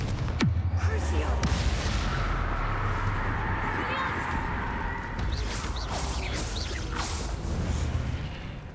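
Confringo spell blasts in Hogwarts Legacy: a sharp, loud crack opens the sequence, followed by a sustained roaring, rumbling wash of magical explosions with occasional further impacts.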